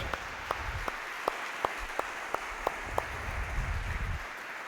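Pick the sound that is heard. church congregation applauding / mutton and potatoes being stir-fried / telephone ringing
church congregation applauding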